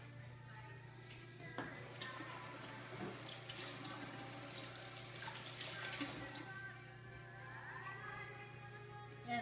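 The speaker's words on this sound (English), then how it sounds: "I'm going to go wash my hands." Hands being washed under a running sink tap indoors, a steady close hiss of flowing water with faint splashing from the hands and a low hum underneath, continuous throughout.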